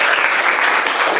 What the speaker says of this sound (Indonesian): Tepuk tangan untuk 10-4